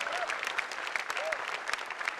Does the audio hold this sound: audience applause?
yes